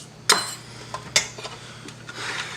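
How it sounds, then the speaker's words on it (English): A spoon stirs sugar into a cup of coffee, with a few sharp clinks of metal on the cup and soft scraping between them, close and alone. "And then we're gonna fucking stir."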